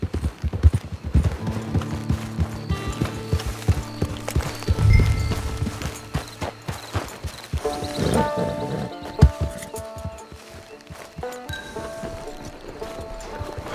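Horse hooves clip-clop steadily in Red Dead Redemption 2 at the start of online play, a continuous walking rhythm, close and clear, with a brief whinny and scattered crashes mixed in.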